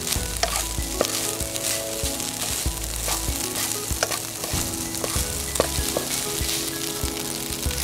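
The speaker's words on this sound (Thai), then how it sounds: "เราผัดให้เข้ากันเรียบร้อยนะคะ" Fried rice with grilled pork and chamuang leaves is stir-fried in a pan at a campsite, giving a steady, close sizzle with scraping and stirring clanks throughout and no talking.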